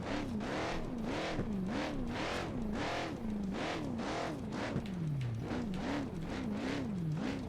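The CB UFO off-road car in BeamNG revs its engine in repeated rising and falling bursts as it climbs over rocks on the King of the Hammers course, with close, continuous motor whine.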